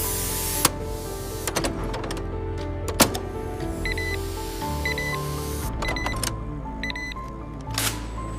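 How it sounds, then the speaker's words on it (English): Mechanical whirring and clattering from an automatic banknote bundling machine compressing and sealing 500 rupee notes, with intermittent clicks, beeps and thumps over a steady motor hum. "compressed and sealed by the automatic bundler with a mechanical whirring sound"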